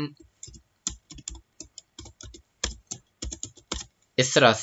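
Rapid clusters of computer keyboard clicks ring out as code is entered for a Laravel 9 component, alternating with someone speaking briefly near the end; the keystrokes come in short irregular bursts, close and fairly loud.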